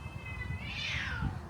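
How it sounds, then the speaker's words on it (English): A cat yowls outdoors at night during a fight, one drawn-out cry that rises and falls, faint and distant over a steady background hiss. "As you hear cats arguing with each other"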